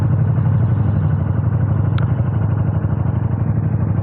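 A 2019 KTM 1290 Super Duke R Gen 2 motorcycle rolls down a hill, its engine giving a steady, loud, low rumble throughout with a single faint click partway through.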